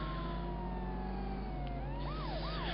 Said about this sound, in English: especially a police car with a siren on